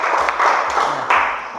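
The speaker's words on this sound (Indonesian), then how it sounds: "Oke, tepuk tangan dulu untuk teman kalian tadi." A classroom of students claps for their classmates in a short, scattered burst of applause, with a few uneven claps rising and fading.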